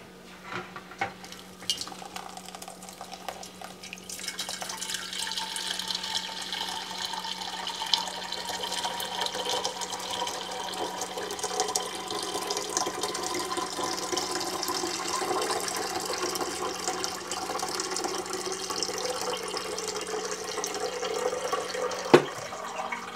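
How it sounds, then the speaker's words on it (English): Cucumber juice drains through a strainer and funnel into a gallon jar, giving a steady trickle and splash that picks up after a few seconds and runs on continuously. A faint low hum sits underneath and no one speaks. "we're just going to pour this through there, and we're going to let it all drain into our gallon jar"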